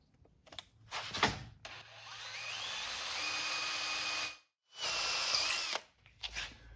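A power drill fitted with a worn Harbor Freight Unibit step bit bores into a small part held in place, whining loudly in two long bursts with a brief pause between them, preceded by short clicks and handling noise.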